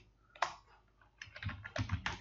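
Typing C# code on a computer keyboard: a burst of quick clicking keystrokes, a single sharp press early on, then a denser run of close, moderately loud taps toward the end, with no voice.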